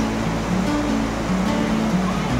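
Small waterfall in a rocky riverside setting pouring steadily, a dense, even rush of water that stays close and loud throughout with no talk over it.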